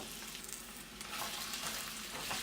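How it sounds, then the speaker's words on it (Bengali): Potatoes fry in hot oil with a dense, steady hiss and crackle that stays close and even throughout, with no talking. "এবার এই গরম তেলটার মধ্যে আমি দিয়ে দিচ্ছি আলুগুলো"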